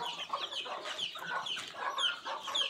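Free-range country chickens clucking steadily in a flock on a Konkan poultry farm, with overlapping short calls and a busy, close farmyard chorus; no talking.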